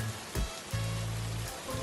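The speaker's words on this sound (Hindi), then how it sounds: "बारिश हो रही है।" Steady rain falls on a cold day at a railway station, a continuous broadband wash with brief louder bursts and a low tonal hum underneath, no voices.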